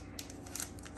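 Several crisp scissor snips close by, cutting open trading card packs, irregularly spaced over a second, with faint handling noise in between.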